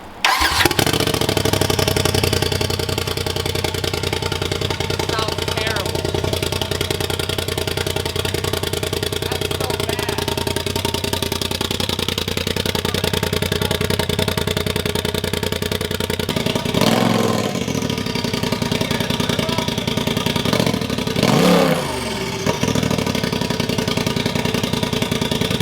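A Polaris RZR Turbo S with a straight-piped exhaust cranks and fires up, then settles into a loud, raspy, close idle, broken by a couple of sharp revs near the end.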